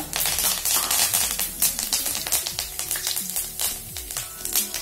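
Crackling, spattering sizzle of fennel seeds and curry leaves frying in hot oil, continuous and close, with occasional light taps and clinks.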